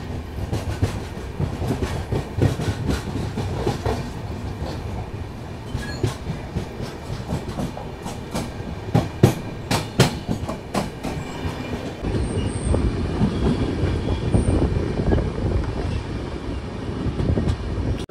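The Hubballi–Bengaluru Jan Shatabdi Express rolls along after a station stop, heard from on board: steady rumbling with rhythmic clickety-clack of wheels over rail joints and occasional squeals, continuous and close.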